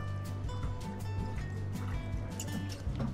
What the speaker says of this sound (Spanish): Vamos a ponerle un poquito de agua,